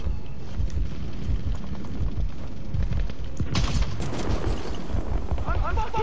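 Gunfire in a first-person shooter video game, a dense steady barrage of shots filling the whole stretch at close range, with voices talking over it.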